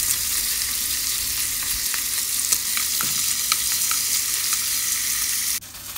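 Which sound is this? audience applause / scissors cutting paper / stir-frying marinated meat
stir-frying marinated meat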